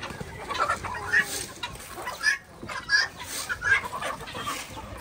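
Chickens clucking on a traditional countryside farm as the birds are let out, with a string of short, fairly close clucks and squawks over a light background.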